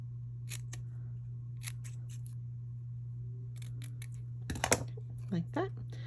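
Scissors snip a paper sentiment strip for a handmade card, a few short crisp cuts clustered near the end over a steady low hum, close and fairly quiet, with brief tapping and handling noises earlier.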